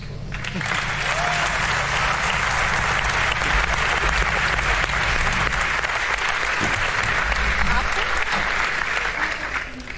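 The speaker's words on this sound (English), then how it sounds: "thanks for everybody cheering" A large audience at a Dota 2 event bursts into sustained applause and cheering that fills the hall evenly for about ten seconds, loud and continuous.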